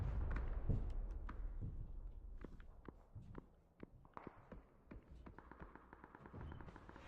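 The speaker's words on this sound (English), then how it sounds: "And now we have some grenades being laid out." Grenades going off in a PUBG battle, a run of sharp cracks and thuds close together, mixed with gunfire-like pops and footsteps in busy close-quarters combat.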